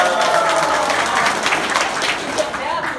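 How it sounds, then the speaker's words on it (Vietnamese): Audience applause at a small Vietnamese business-training class, a steady wash of many hands clapping that fills the whole stretch at even loudness, with some crowd murmur mixed in. "chị Phương một tràng pháo tay"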